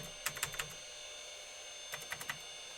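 Keys clatter on the keyboard of an NEC PowerMate SX/20 computer in two brief bursts of a few quick taps each, separated by a pause.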